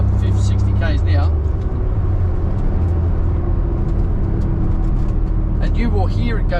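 Suzuki Cappuccino cruising at about 60 km/h with a noisy rear end, a steady close road and engine drone running throughout while people talk inside the cabin.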